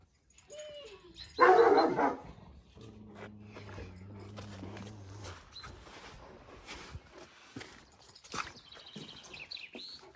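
A dog barks loudly in a short burst, then a lower hum and scattered household noises follow with occasional faint sounds.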